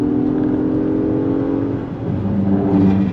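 A 2025 Acura MDX Type S performance luxury SUV accelerates hard in Sport Plus mode, its engine a steady, loud droning hum that swells and brightens near the end, heard from inside the cabin without talk.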